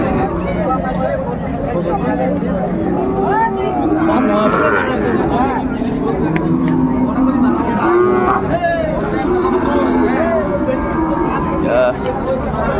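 A Sahiwal calf moos repeatedly amid a noisy livestock market in Dinajpur, with people talking loudly all around.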